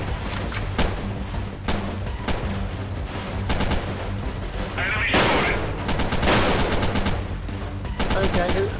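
Rifle and automatic gunfire rattle in a war video game, with dense bursts of loud shots and a heavier blast partway through, all over continuous in-game battle noise.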